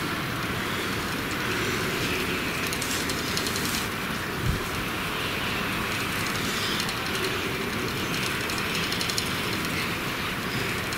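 An American farm windmill's turbine rotor spins at about 600 RPM in a 20 km/h wind, giving a steady broad whooshing and rattling roar that runs unbroken and fairly loud throughout, with no talking.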